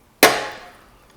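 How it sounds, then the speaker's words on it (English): A fork cartridge spindle is clamped in a vise with soft jaws, making one sharp metallic knock that rings out close by and fades over about a second. "I'm going to put the cartridge in the vise,"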